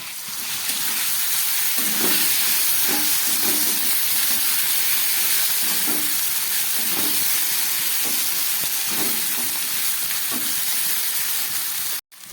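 Cauliflower and potatoes fry with tomato pieces and ginger paste, making a steady hissing sizzle with faint, occasional stirring knocks throughout.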